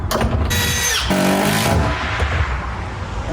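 A power drill pre-drills screw holes, with a loud whirring burst that rises in pitch and then cuts off, followed by a quieter rattling of the bit and workpiece.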